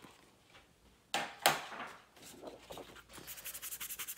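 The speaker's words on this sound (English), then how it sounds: "now I'm going to do the same thing, rubbing off that excess ink." Soft rubbing and scraping as excess ink is worked off an ink pad while decorating a shirt, with a sharper scuff early on and a quick series of rhythmic rubs at the end, close and quiet.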